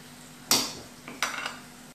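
Chicken being cooked in a karahi pan, with two sharp metallic scrapes and clanks of a utensil against the pan at close range over a quiet background.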